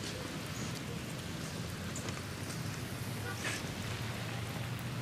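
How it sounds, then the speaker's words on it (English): Steady rain falls as a dense, even hiss, with a low rumble underneath and voices faintly audible throughout. "It's raining, dude."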